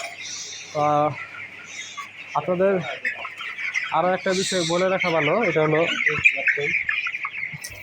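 Broiler chickens cluck and squawk in bursts close by on a farm while someone talks over them, with a constant high insect-like hum in the background.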